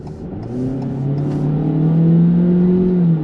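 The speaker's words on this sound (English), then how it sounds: "It's got some surprisingly decent power. Again, this is a 2-liter engine" A 2021 Ford Transit Connect passenger wagon with a 2-liter engine accelerates from inside the cabin, its hum rising smoothly in pitch and loudness over a few seconds with no one talking.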